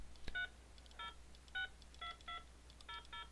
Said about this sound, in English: Making a call is as simple as clicking on the line button and dialing the phone number